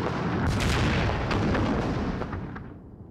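Loud, continuous rumbling booms and crackling bursts of fireworks going off together, fading toward the end.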